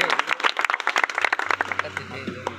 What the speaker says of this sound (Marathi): एकदा जोरदार या बुवांसाठी टाळ्या वाजवायचे.